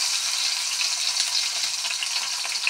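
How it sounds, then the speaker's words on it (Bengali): Sliced onions hit hot oil in a wok and sizzle with a steady, bright crackle that stays constant and fairly close, with no voices over it. "পেঁয়াজটা আমি বেশি ভাজা করব না, হালকা হালকা ভাজা করব"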